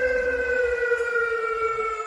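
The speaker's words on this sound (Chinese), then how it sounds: "消防车到了" A fire engine siren wails on a street at an evening vehicle fire in Harbin, a loud, steady sustained tone that holds throughout, with a low rumble of traffic underneath.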